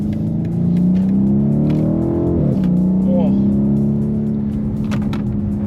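A BMW 850i with a 4.4 liter V8 in sport mode hums steadily from inside the cabin, with one brief rise and fall in revs partway through, while a person talks over it.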